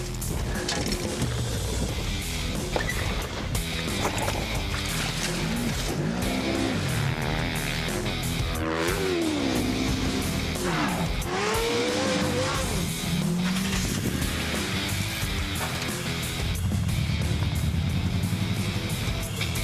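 Off-road race trucks competing on a TORC championship dirt track at Bark River, Michigan: engines roaring and revving with rising and falling pitch as trucks accelerate and pass, tire scrabble and skids, a steady loud racing din.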